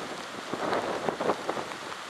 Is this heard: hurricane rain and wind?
yes